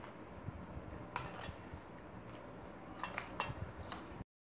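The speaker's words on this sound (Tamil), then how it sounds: "அதில் இப்போ சீனியை கலக்கணும்." A spoon stirs sugar into boiled milk in a pot for kulfi, a very faint scrape with a few soft metallic clinks over low background hum.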